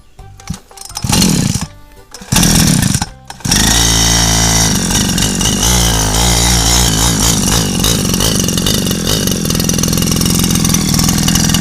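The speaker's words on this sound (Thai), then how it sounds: "เดี๋ยวมาลองสตาร์ทฟังเสียงให้ดูก่อนนะ" A two-stroke motorized bicycle engine with a loose piston and weak compression cranks over in a few short bursts, then catches and runs steadily, loud and close, with a buzzy idle and no talk.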